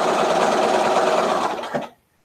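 A sewing machine stitching an "Entwined Star" quilt block gives a steady, close, fairly loud whirring run for just under two seconds, then cuts off abruptly into silence.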